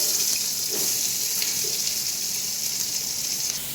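Chopped onions sizzle steadily in hot ghee for a beef yakhni pulao, a loud continuous hiss and crackle with no speech over it.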